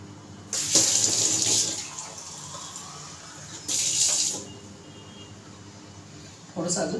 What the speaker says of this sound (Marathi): थोडंसं अजून पाणी टाकते।